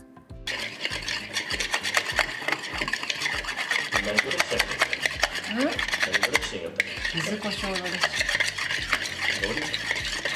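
A yuzu kosho, soy sauce, lemon juice and egoma oil dressing is stirred briskly in a small bowl, giving a steady, close scraping and clinking that continues without pause.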